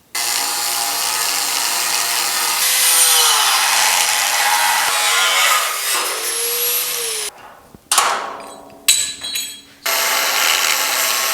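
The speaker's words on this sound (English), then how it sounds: "So let me grab the grinder, see if I can cut these welds back," An angle grinder cutting back welds on a Pontiac GTO restomod car chassis, loud steady high-pitched grinding with pitch dips as the disc bites, then several short, broken cuts near the end.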